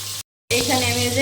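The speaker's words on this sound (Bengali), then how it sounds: "তেল গরম হয়ে গিয়েছে। এখন আমি মাছ দিয়ে দিলাম" Fish frying in hot oil, with a steady broadband sizzle that drops out briefly and then returns loud and continuous, with a low hum underneath.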